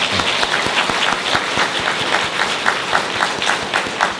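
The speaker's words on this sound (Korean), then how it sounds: "우리 신부님께 박수 좀 쳐드립시다." A church congregation applauds the priest at the close of a gathering, with dense, sustained clapping from many hands that fills the room evenly.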